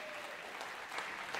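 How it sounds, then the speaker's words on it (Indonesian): An audience at a Banda Aceh mayoral and deputy mayoral debate applauds the candidate pairs, a brief steady wash of clapping at moderate volume. "beri tepuk tangan untuk seluruh pasangan calon yang berbahagia"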